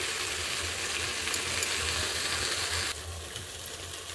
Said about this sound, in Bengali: একটু সবজিটা ভাজা হোক, তারপর টমেটোটা দেবো।